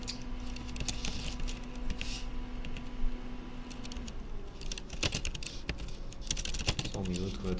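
Rapid keystrokes on a computer keyboard during a programming webinar: a busy patter of clicks over a low steady hum, sparse at first and growing denser and louder in the second half.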